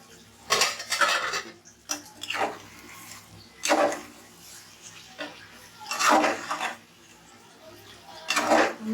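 Beef and chana dal curry is stirred in a pot, a metal spoon scraping and clanking against the pot in five or six separate bursts with quiet gaps between, close up and without speech.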